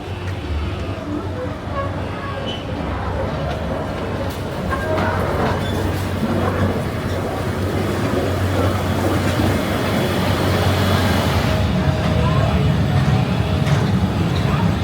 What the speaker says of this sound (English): I'm going to go for a ride round on the train at this side of the park